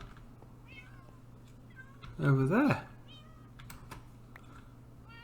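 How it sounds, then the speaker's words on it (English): A Minecraft cat gives one clear meow of under a second in the middle, close and distinct, while someone talks quietly around it over a low background hum. "You daft cats."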